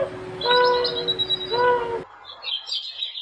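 A dove coos in two drawn-out, tonal calls close by, followed by softer chirping.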